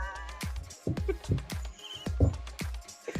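A horse in a medieval-era video game neighs and snorts several times close up, with hoof clatter and game sounds mixed in.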